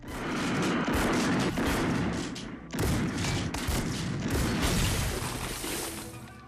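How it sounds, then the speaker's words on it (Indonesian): Repeated gunfire from the Terminator film scene, a dense volley of shots and thuds that fills the whole stretch, loud and continuous with only a brief dip partway through. "Tepat ketika ia membidik Sarah, Kyle dengan sigap menembaknya berkali-kali untuk menyelamatkan gadis itu."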